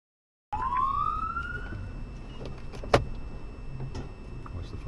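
Police car siren from an officer's vehicle, rising in pitch as it starts up during a traffic pursuit, loud and close over road noise, with a sharp bang near the middle.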